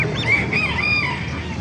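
Chickens and a rooster at an outdoor animal market: a loud, nearby rooster crow rises and falls over clucking hens and a busy background of farm-animal noise.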